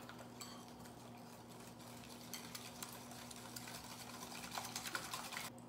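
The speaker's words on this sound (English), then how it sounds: "And let's mix all this together" A mixture of vanilla extract and vanilla sugar being stirred in a bowl, with quiet, soft scraping and light irregular taps that pick up slightly toward the end, with no voices.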